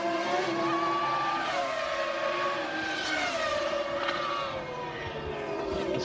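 Formula 1 cars of the 1999 season racing past as a Ferrari leaves the pits, with loud high-pitched engine wails rising and falling in pitch as the cars sweep by, continuous throughout.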